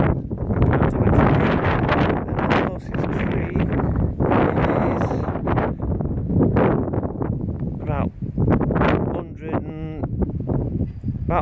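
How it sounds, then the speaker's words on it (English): Strong freezing wind buffets the microphone during a night-time UK snowstorm, roaring loudly in continuous gusts. Someone talks over it throughout. "this wind is bloody freezing"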